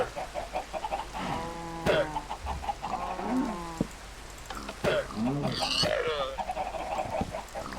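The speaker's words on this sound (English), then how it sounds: "Let's kill some chickens." Chickens in a Minecraft modpack (FTB Oceanblock) give a run of short, nasal clucks and squawks, several calls in quick succession over a low game background, with no talk.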